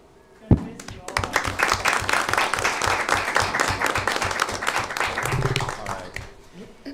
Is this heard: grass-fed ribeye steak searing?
no